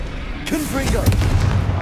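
Blast from the Confringo fire spell in Hogwarts Legacy, a sudden bright whooshing burst followed by crackling and a low rumble, with voices and game sounds mixed underneath.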